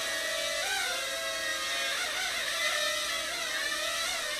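An Eachine E20 drone's spinning propellers give a steady, loud, buzzing whine throughout, with the pitch sliding up and down as the throttle changes.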